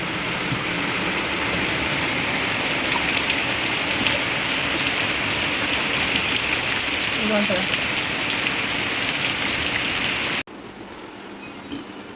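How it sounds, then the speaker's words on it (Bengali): Continuous rain falls outside, a steady dense hiss of drops on surfaces that holds evenly for about ten seconds, then cuts off abruptly to a quieter background near the end. "বাইরে অনবরত বৃষ্টি হচ্ছে, বৃষ্টি থামার কোনো নাম নেই"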